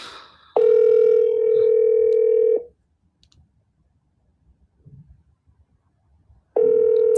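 Outgoing call ringback on a T-Mobile phone: a steady electronic ring tone lasting about two seconds, a long silent gap with faint background noise, then the ring starts again, loud and close.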